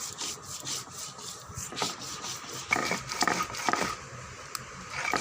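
Green chillies and black mustard seeds ground into a fine paste on a stone, a steady close scraping and rubbing with rhythmic strokes and a few louder grinding bursts, no talking.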